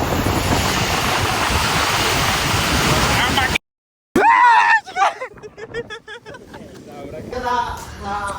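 Heavy waves break on a Kerala shore in a dense, hissing wash that cuts off abruptly, then gives way to nearby voices talking over quieter background sound.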